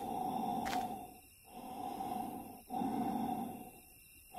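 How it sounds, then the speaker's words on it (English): Heavy, rasping breaths in a dark video game scene, three long drawn-out inhales or exhales with short gaps between them, close and fairly loud, with no talking. "I can hear you breathing out there."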